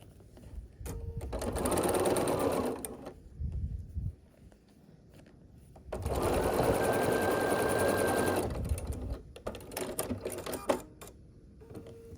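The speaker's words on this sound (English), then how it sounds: "we just need to sew the final seam across the middle" A sewing machine stitches the final seam across a scrappy quilt block in two loud, close bursts of rapid whirring, with brief handling noises and pauses between them.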